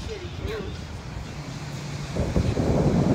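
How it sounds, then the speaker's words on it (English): Wind buffets the microphone with low rumbling gusts that grow stronger toward the end, while a voice speaks faintly underneath. "it's windy up here"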